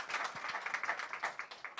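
Audience applause at a Castle Lager media launch: a dense, steady patter of many hands clapping close by, continuous with small surges and no pauses through the short stretch.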